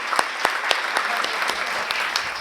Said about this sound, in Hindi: आप सभी एक बार वल्लभ के लिए जोरदार तालियां बजाइए